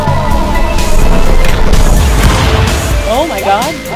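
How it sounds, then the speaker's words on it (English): An explosion in Stick Fight The Game 2 makes a loud, crashing boom with rumbling debris, and excited voices talk over it and into its tail. "Did an explosion just happen?"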